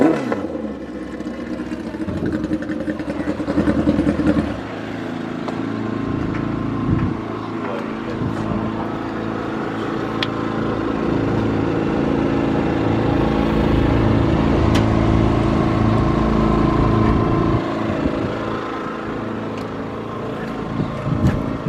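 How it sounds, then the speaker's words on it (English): A turbocharged Harley-Davidson Road King running on a FuelTech setup gives a loud, continuous engine rumble nearby that holds for over twenty seconds, with outdoor wind noise around it. "He's got a badass turbocharged Road King."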